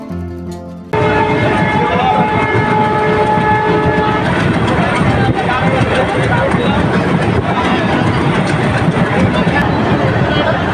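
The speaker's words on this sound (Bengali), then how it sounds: "আমাদের ট্রেন এখন ওভারব্রিজ ওঠা শুরু করেছে, কারণ হলো সামনেই হচ্ছে রূপসা রেল সেতু।" The Mongla commuter train on its inaugural run between Mohammadnagar and Mongla roars steadily as it climbs onto the Rupsha rail bridge, a loud continuous rumble that kicks in suddenly after a short quieter start, with a voice faintly under it.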